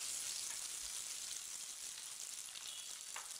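Small fish frying in a pan of hot oil, a steady broad hiss of sizzling that holds evenly throughout with no voices.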